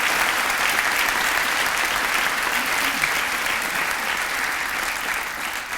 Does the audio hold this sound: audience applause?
yes